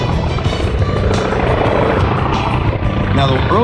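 A Wildcat warbird flying past at an airshow, its engine a loud, steady droning roar close overhead, with a rising whine near the end; a voice speaks over it.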